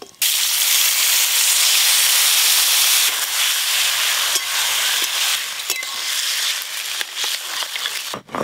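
Boiled taro greens hit hot oil tempered with bay leaf, dried red chilli and five-spice, setting off a loud, steady, close sizzle and hiss that holds throughout with a few brief crackles and stirring scrapes near the end.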